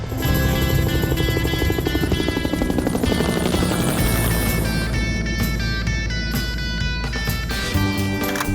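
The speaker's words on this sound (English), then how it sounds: "when you hear a helicopter, it can take you right back to the experiences" A helicopter's steady, loud rotor thrum and engine whine fill the whole stretch, continuous and close, with no voices.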